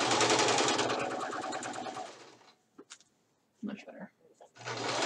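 A sewing machine stitches pajama pants, giving a fast, steady whir for about two seconds before it stops. Brief clicks follow, along with a short remark, and then the stitching starts up again.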